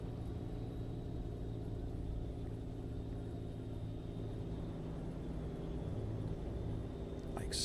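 Kenworth K100 cab-over truck engine in American Truck Simulator, a steady low diesel rumble and drone holding evenly throughout at moderate level, with no talk over it.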